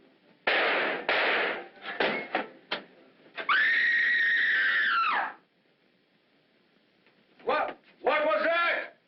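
Screams and frantic cries ring out in a 1945 black-and-white drama, with several sharp short bursts, one long sustained shriek, then a pause before more cries and voices.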